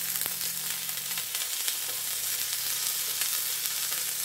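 A gluten-free flourless cheese pizza topped with sauce sizzles steadily in a hot pan, giving off a continuous, even crackling hiss with no talking over it.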